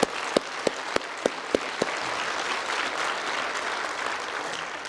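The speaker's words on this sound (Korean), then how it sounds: "우리 하나님께 영광의 박수 올려드리겠습니다" Congregation applauding during a church service: a few distinct sharp claps at the start build into dense, sustained clapping from a large crowd filling the room.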